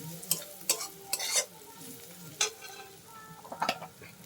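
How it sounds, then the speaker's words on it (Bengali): Prawns with chili powder being stirred in a pan: quiet, intermittent scraping strokes of a utensil over a faint sizzle, a handful of distinct bursts spaced irregularly, alone without talk. "পরিমাণ মতন লঙ্কা গুঁড়ি দিয়ে দিলাম দিয়ে পরে এরকম করে নাড়তে হবে"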